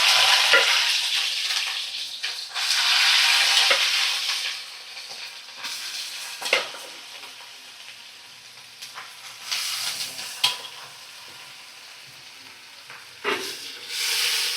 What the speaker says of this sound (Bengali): সিদ্ধ থোড়টা আমি যে এর মধ্যে তেলের মধ্যেই দিয়ে দেব